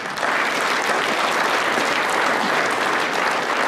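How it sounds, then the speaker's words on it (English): A crowd at an American Farm Bureau Federation address applauds steadily and loudly throughout, a dense even wash of clapping with no voices on top. "I think you need to give yourselves another round of applause"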